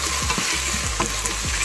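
Plant-based ground meat browning in a hot pan, a loud continuous sizzle and fry broken by several scraping stirs of a utensil, close up with no talking.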